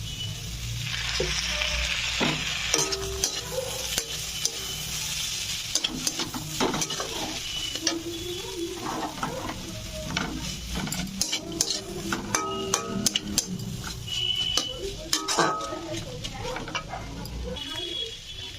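Ingredients for egg chicken Maggi fry in a pan, a continuous close sizzle broken by frequent scraping and tapping of a stirring utensil.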